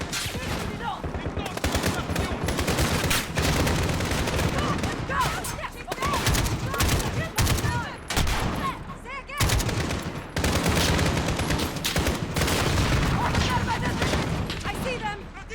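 Dense, rapid gunfire from Call of Duty: Modern Warfare (2019) rattles almost without pause, loud bursts overlapping each other, with brief dips between volleys and a player talking over the action.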